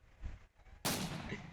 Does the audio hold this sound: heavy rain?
no